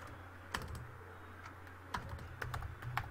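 A URL being typed on a computer keyboard, with a few scattered, fairly faint key clicks over a low room hum.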